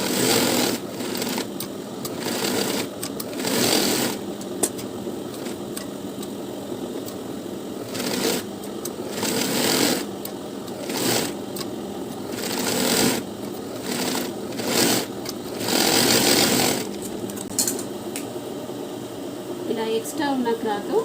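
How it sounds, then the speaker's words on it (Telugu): Sewing machine running with a long stitch over a blouse lining, in repeated close bursts of steady whirring separated by brief stops, with someone talking over and between the runs. "ఇది కూడా దొడ్డు కుట్టు దూరం కుట్టుతోనే కుట్టాలి."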